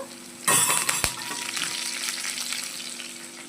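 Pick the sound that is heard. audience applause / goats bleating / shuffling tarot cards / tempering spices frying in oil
tempering spices frying in oil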